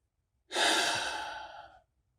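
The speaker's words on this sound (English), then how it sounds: "Take a deep breath." One long, deep breath, close and clear, rushes out as a single airy exhale lasting over a second and fading away into silence.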